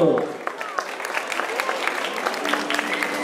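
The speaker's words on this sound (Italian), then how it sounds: "Un applauso!" Audience applause at a Saturday cosplay contest at Firenze Comics 2018, a steady crowd of clapping that follows a contestant's introduction, with voices and a brief tone underneath.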